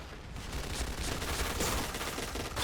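A light machine gun fires in the Point Blank shooter game, producing a rapid, continuous burst of gunfire at moderate volume.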